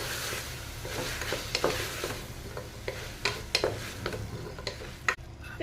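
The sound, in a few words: stirring saranai keerai greens into sautéed onion and tomato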